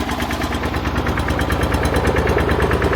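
A tractor engine idling after a tune-up, a close, steady mechanical chugging with a fast even rhythm and no voices.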